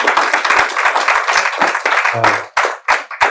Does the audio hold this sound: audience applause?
yes